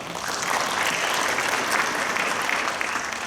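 An audience claps steadily throughout, a dense, sustained round of applause from a roomful of people at a medical lecture.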